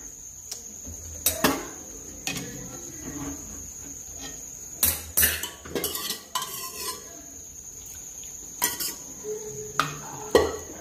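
Mutton curry is stirred in a cooking pot, a spoon scraping and clinking against the metal in irregular sharp strikes over a steady high insect-like hiss, no voices.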